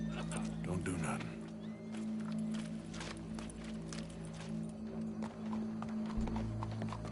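A horse walks with a rhythmic clip-clop of hooves in Red Dead Redemption 2, the steady footfalls continuing alongside game ambience and a low drone.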